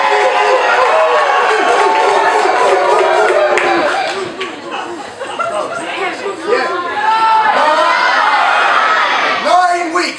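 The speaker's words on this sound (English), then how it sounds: "we'd like to hear a huge cheer from all of our Glasgow friends" A crowd of Glasgow friends at a vow-renewal celebration in The Big Shed roars with loud, sustained cheering and whooping voices, briefly dipping in the middle before swelling again, close and dense throughout.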